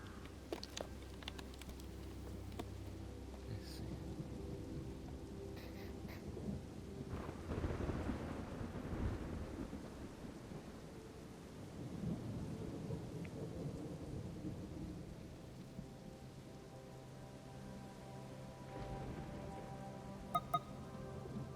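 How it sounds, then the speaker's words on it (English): Steady rain pours in a roleplay video game, with deep thunder rolling and swelling midway before easing back into the constant patter; no one speaks. "Ugh, the rain's back."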